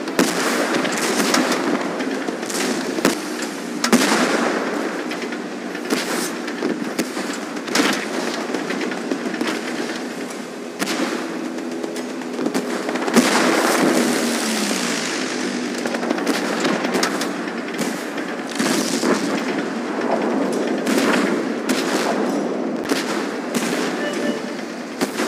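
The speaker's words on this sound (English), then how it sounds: "We are under bombardment." Constant bombardment and gunfire in the Tank Force tank battle game, with dense, continuous rumbling explosions and rapid cracks throughout, and voices talking over the battle at times.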